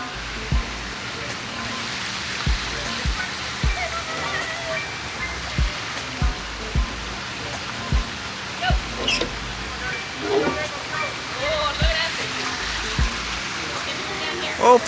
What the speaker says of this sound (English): Desley Waterfalls. Check it out.